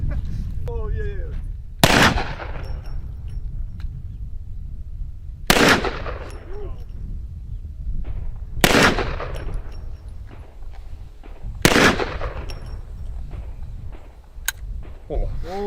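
Four loud, sharp gunshots fired at spaced intervals a few seconds apart, each ringing out with a brief decay, over low background rumble and some conversation between shots.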